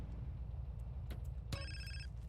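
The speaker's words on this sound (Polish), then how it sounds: "Czekajcie, telefon." A phone rings in Grand Theft Auto San Andreas, a short electronic ringtone with a clear tonal burst near the end, heard over steady low game background noise.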